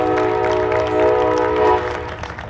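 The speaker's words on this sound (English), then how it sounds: "That train is right on time." A train passing during an outdoor ribbon-cutting ceremony for an EV charging station, its horn blaring loud and sustained before fading, with rumbling rail noise underneath.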